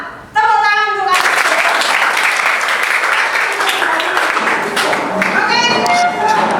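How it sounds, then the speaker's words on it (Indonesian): Students in a classroom break into loud, dense clapping that starts abruptly and carries on for several seconds, with voices calling out over the applause near its start and end. "Tepuk tangan untuk kalian."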